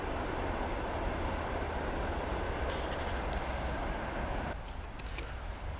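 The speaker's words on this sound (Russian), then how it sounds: "А здесь еще сегодня у нас и поезда шуметь будут, и машины шуметь." A train passes nearby outdoors as a steady, loud broadband rumble with faint rattling clatter, easing slightly toward the end.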